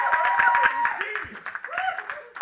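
Applause from a stand-up comedy audience at a Catholic college performance, a dense crackle of hands with whoops and voices mixed in throughout.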